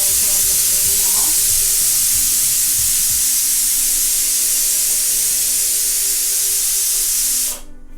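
A loud, steady sizzling hiss of sambar cooking over a flame, with faint clinks in the background, cutting off abruptly near the end.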